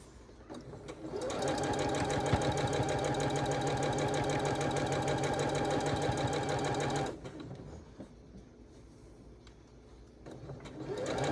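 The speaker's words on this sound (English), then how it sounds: "Let's see if I can manage to sew this whole thing without sewing the wrong row on the corner again." A sewing machine stitching a Blue Ribbon Weave quilt runs in one steady, rapid, close burst for about six seconds. It then stops, and there is quiet handling before it starts up again.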